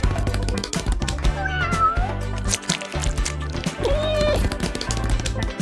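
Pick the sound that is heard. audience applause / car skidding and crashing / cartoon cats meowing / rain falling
cartoon cats meowing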